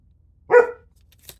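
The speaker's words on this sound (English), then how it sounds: "Oh, there goes one dog." A single dog barks once, a short, fairly loud bark at mid-distance in a quiet room, followed by a faint knock or rustle.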